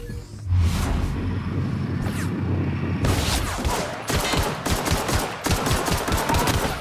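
Rapid bursts of gunfire from guns in the video game The Outer Worlds, loud and close, with sustained automatic fire and whooshes, no talking.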